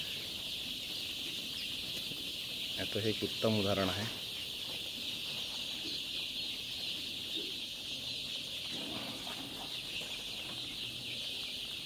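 A dense, steady chorus of high cheeping from thousands of 14-day-old chicks fills a poultry farm shed in Wada, Palghar, while someone talks over it.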